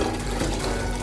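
Steady running water pours from a tap while rice is washed in hot water for Nigerian suya jollof rice, a continuous close splashing wash with no talking.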